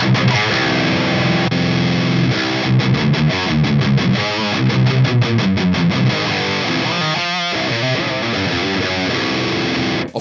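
Heavily distorted electric guitar through a Brunetti high-gain amplifier, tight compressed palm-muted chugs and sustained chords in a dense riff with a brief pause near the end, loud and alone.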